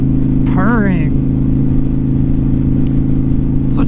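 A Honda Shadow motorcycle fitted with Cobra Street Rod slash-down exhaust idles with a steady, deep, close rumble throughout, while a person speaks briefly over it near the start.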